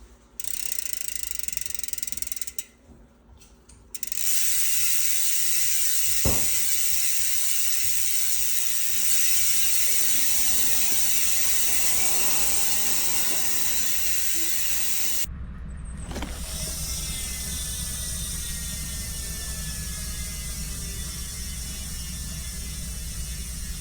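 A high-engagement rear hub on a NOMADIK carbon wheelset freewheels with a dense, fast, buzzing ratchet, steady and close for most of the clip, with a brief break and a shift partway through.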